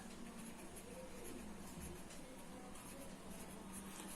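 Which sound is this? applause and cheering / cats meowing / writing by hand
writing by hand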